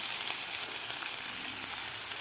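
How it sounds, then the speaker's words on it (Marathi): Chopped onion sizzles briskly in hot oil for an eggplant (baingan) masala, a dense, steady crackle and hiss that runs unbroken for the whole stretch, close and fairly loud. "कांदा सुद्धा आपल्याला व्यवस्थित परतून घ्यायचा आहे."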